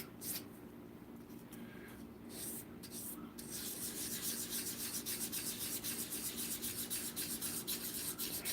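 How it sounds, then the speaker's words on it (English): A bowl sander works a wooden bowl in a woodturning shop, giving a steady abrasive rubbing and rasping that grows louder and denser partway through, close and continuous with no talk. "A bowl sander. You like that bowl sander."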